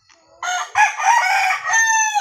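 A fighting rooster, a gamecock kept for cockfighting, lets out one loud, close crow that lasts under two seconds, rising sharply and then trailing off.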